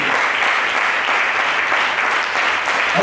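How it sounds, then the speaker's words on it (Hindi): Applause from a church congregation saluting its pastors, a steady, dense burst of clapping that stays even and loud throughout with no voices over it. "हम सलाम की ताली देंगे"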